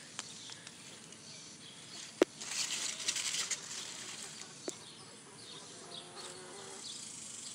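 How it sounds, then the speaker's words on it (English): Bumblebee buzzing around plants in a thick, healthy home garden, its drone rising and falling as it moves close and away, with a couple of sharp clicks and a brief louder pass near the middle. "There's that bee. It's a bumblebee."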